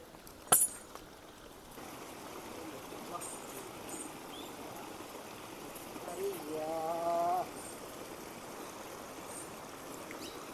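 A rain-swollen mountain stream rushes steadily past a spot where makeshift footbridges have washed away, its broad continuous roar filling the whole scene, with a brief knock near the start and a short human voice rising above the flow midway.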